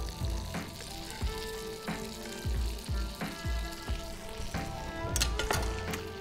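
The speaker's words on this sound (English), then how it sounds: "You can almost just leave it in this hot pan and it will just keep on cooking." Hake fillet frying in a hot pan, a steady loud sizzle with repeated soft low knocks and stirring scrapes throughout, no voices.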